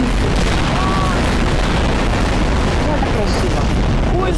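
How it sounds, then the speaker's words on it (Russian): A loud, rumbling explosion in Garry's Mod fills the clip, a dense sustained blast with crackling debris and no pauses. "Вот как она взрывается."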